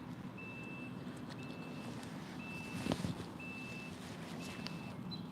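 A vehicle's reversing alarm beeps steadily at a pond, a thin high tone repeating about once a second at moderate distance over outdoor background noise, with a brief thump partway through.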